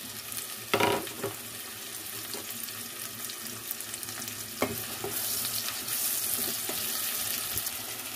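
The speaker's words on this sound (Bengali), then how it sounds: "এই তেলের মধ্যে এখন আমি পেঁয়াজটা দিয়ে দিব আর কাঁচামরিচ।" Onion and green chili hit hot oil in a pan and sizzle steadily under scattered utensil clinks and a couple of sharp knocks. The frying noise grows brighter and louder in the second half.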